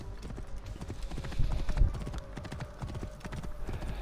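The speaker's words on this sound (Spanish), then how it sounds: "nos vamos a caballito, ya que tenemos aquí nuestro caballo" A horse ridden in Assassin's Creed Origins trots with a steady, close clip-clop of hooves, fairly loud and continuous, with faint ambient game sound behind.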